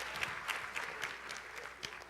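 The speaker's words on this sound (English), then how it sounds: "Give yourselves a big round of applause for that one right there." An audience gives a brief round of steady applause, a soft, fairly distant wash of many hands clapping with faint rhythmic pulses throughout.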